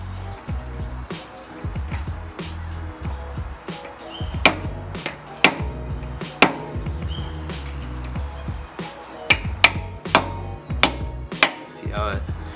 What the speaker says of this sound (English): I used a rubber mallet, and I was able to crack it loose with a few good